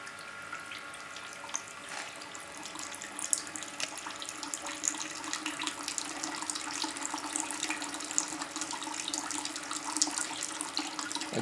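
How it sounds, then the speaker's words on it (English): Water from a reflux alcohol still splashes steadily into a sink-like basin, a continuous close running-tap stream with irregular trickling bursts and no talking. "Here's the water. It's getting discharged from time to time."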